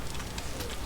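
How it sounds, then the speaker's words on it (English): Steady rain falls on a stormy day in the Vintage Story video game, a dense, even hiss of drops with soft patters throughout a brief moment. "on this rainy, stormy day,"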